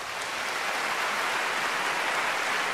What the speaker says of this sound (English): Beginning with one overexcited soul, but spreading almost instantly to all corners of the room, a thunderous applause